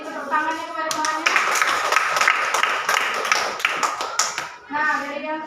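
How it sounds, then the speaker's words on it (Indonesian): Students in a vocational school classroom clap for a classmate in a burst of lively, uneven applause lasting a few seconds, with children's voices and chatter before and after. "Boleh beri tepuk tangannya kepada temannya."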